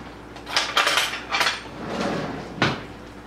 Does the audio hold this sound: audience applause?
no